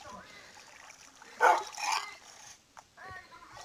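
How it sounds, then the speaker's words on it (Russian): A dog barking in the Minecraft video game, a short burst of two or three yaps in the middle, with talk and splashing water around it. "Да, я слышала собаку."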